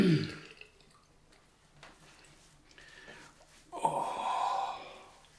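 Cold water splashed onto a freshly shaved face after a wet shave, a short burst of rinsing and dripping near the end that follows faint sighs and breaths in a quiet bathroom.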